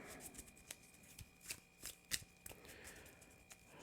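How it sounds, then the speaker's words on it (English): A deck of Marvel Champions cards being shuffled by hand at a tabletop game, a string of crisp riffling bursts at close range, quiet and alone with no talk. "let's shuffle up in this deck"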